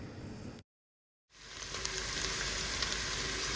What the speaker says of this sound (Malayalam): ഇതിലേക്ക് അരിഞ്ഞു വെച്ചിരിക്കുന്ന ഇഞ്ചി, വെളുത്തുള്ളി, പച്ചമുളക് ഇതെല്ലാം കൂടി ഇട്ട് ഒന്ന് വഴറ്റിയെടുക്കാം